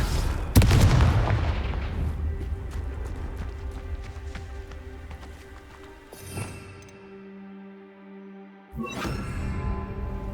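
A Confringo fire spell blasts in Hogwarts Legacy, a loud booming burst with rumbling debris that fades into a low hum before a second sharp impact near the end.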